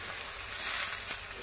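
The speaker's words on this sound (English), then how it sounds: "I've added my meat. I'm going to give it about 15 minutes just to brown" Chunks of meat brown in a stew pot, giving off a steady, soft hiss of frying. The sizzle holds even throughout, close and unbroken, with no talking over it.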